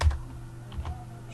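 Brief bursts of clicks from someone typing on a computer keyboard, close and fairly quiet, with no one speaking.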